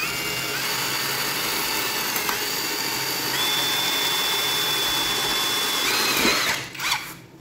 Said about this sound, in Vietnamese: Mình sử dụng mũi khoan này,